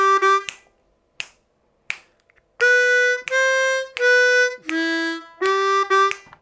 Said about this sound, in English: Okay, so this lick is going to sound like this.